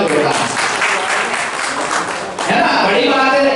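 An audience at a Madhya Pradesh scheme launch event gives a steady burst of clapping that fills the whole moment, with a voice faintly underneath.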